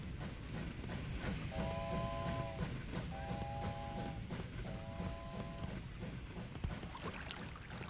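A train in the video game Wobbly Life rumbles along steadily and fairly quietly, sounding three short, evenly spaced whistle blasts.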